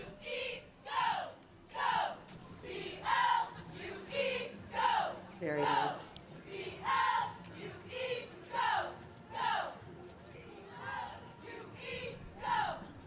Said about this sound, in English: right behind them immediately are the Cougar cheerleaders